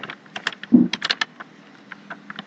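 Keys clatter on a computer keyboard in irregular bursts of clicks, close and moderately loud, with a brief low thump partway through and no talk.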